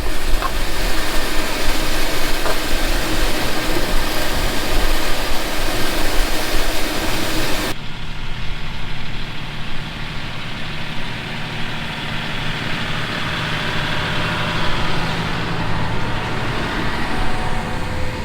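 A tractor drives across a field while planting onions, its engine a continuous droning rumble that shifts abruptly partway through into a duller, quieter hum, with no talking.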